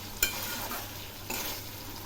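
Spice paste for a rohu fish curry with ridge gourd and potato sizzles steadily in a pan, with two sharp scraping stirs, one near the start and one about a second later.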